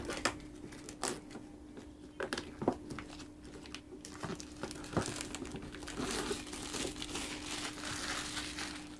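Close, continuous crinkling and crackling of a trading card deck's plastic blister packaging being pried open, with sharper pops here and there over a steady hum.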